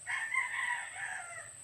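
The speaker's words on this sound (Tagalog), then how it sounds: "may mga manok diri nga ihalas ba" A rooster among wild chickens crows once in a single drawn-out call that rises and then trails off, heard up close and clear over faint background hum.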